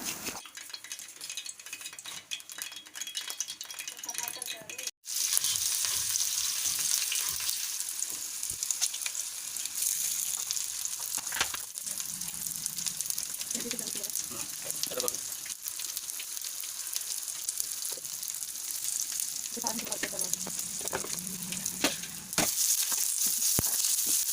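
Spices sizzle steadily in hot oil, a loud continuous crackling hiss with occasional stirring scrapes and clinks throughout.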